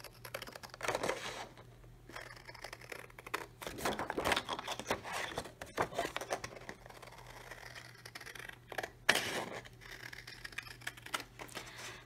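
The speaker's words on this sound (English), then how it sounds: "we're gonna cut out the first strip." Scissors cut a strip of cardstock with a run of small, close snips and scraping paper sounds, fairly faint and irregular.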